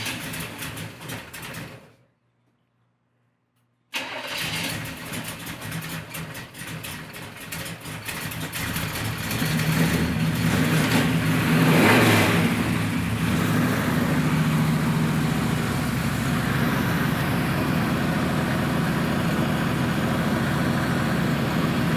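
A 1972 Chevelle V8 engine runs steadily after a brief silence, then its rumble grows louder and rougher as it revs up, a deep continuous mechanical roar.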